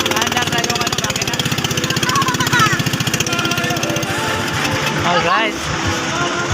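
A boat engine chugs steadily and loudly up close with a fast regular pulse, a capsized-boat outing in the Philippines, while voices talk and shout over it; the engine note shifts briefly near the end.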